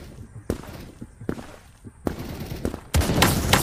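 Gunshots in the video game Krunker, a series of sharp separate shots spaced about a second apart, then a louder, denser burst at the end.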